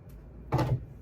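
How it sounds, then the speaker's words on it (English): A house door opened once, a single short dull knock or thud of the latch and panel, close by and moderately loud against a quiet room. "You want me to open the door?"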